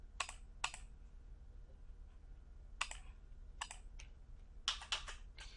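Computer keyboard keys pressed for a copy shortcut on a desktop computer, giving a handful of sharp, close clicks in small scattered clusters over a quiet background, with no talking.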